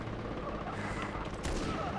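Rapid gunfire bursts in the co-op shooter Far Cry 3, a dense rattling volley that fills the short moment at moderate loudness.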